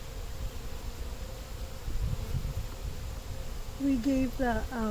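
Honey bees buzz around a hive frame in a steady close drone while a person talks over it.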